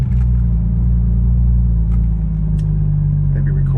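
A Porsche GT2 RS engine and exhaust drone steadily while driving down Ocean Drive, a close, loud, low rumble holding an even pitch without revving, faint clicks above it and no talking.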